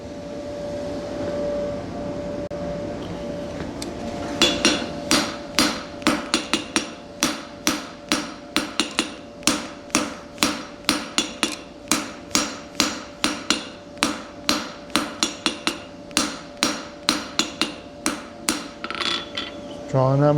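Steady hammer blows ring out on a blacksmith's pritchel as it is forged and drawn out, a long run of sharp, evenly paced metallic strikes, loud and close, following a few seconds of quieter background.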